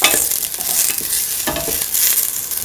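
Ginger and garlic sauté in a hot pan, with crackling sizzle and a few stirring scrapes in short, close bursts.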